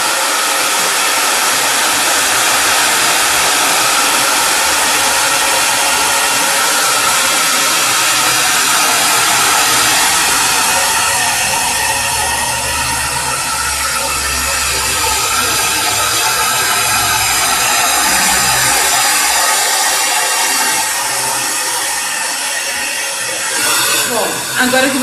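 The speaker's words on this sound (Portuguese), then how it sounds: "Pegou o secador? Coloca ele no máximo." A hair dryer blows at full power, a loud steady roaring hiss that runs continuously with only slight shifts in tone.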